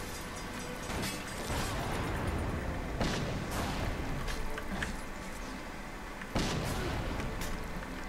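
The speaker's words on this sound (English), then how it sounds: "Who's shooting these?" Gunfire in the video game Guild Wars 2 aimed at the player, a dense, continuous barrage of booming shots and blasts with sharp bursts near three and six seconds, loud throughout.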